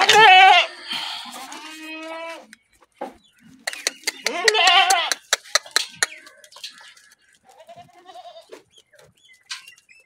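Goats bleat loudly and repeatedly at feeding time on a farm, several animals calling close by in overlapping cries with quieter bleats and rustling between them; a chicken may cluck faintly in the background.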